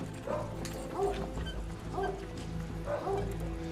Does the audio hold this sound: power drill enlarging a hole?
no